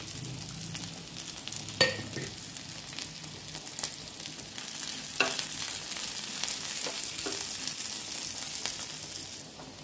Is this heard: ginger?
yes